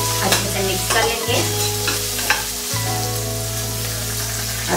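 Herbed rice with pizza sauce and chopped coriander being stirred in a pan, a steady soft sizzle with repeated spoon scrapes and clatters against the pan, close and alone.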